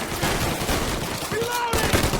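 Bursts of rapid gunfire from the Mafia Definitive Edition video game rattle in dense volleys throughout a short shootout, loud and close, with a voice speaking over the shots.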